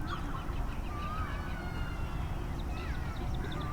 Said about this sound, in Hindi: ये कोयल की आवाज़, ये कुदरत के संगीत है